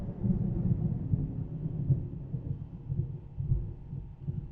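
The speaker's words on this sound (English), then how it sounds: "That's a good lightning thunder combination right there overhead." Thunder rolling overhead during a lightning storm, a deep, continuous rumble that swells and fades for several seconds with no voices over it.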